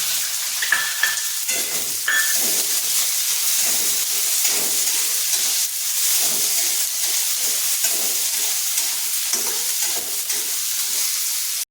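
Onion and roasted peanuts frying in hot oil in a pan for chivda, a steady close sizzle with stirring scrapes throughout and no talk.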